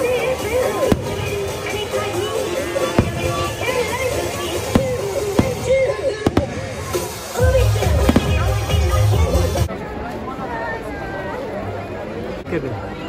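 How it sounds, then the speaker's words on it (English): Sharp fireworks bangs and crackles pop at irregular intervals at Disneyland in Los Angeles, over a busy crowd chattering and voices talking nearby. "Fireworks."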